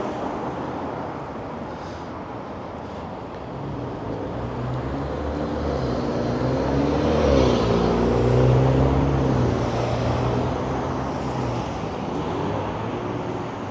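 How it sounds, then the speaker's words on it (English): Steady car traffic on Jarvis Street in downtown Toronto, a continuous broad roar of passing vehicles that swells as a louder car approaches and passes midway, then settles back to a constant hum, with no voices. "Jarvis Street traffic intensifying here."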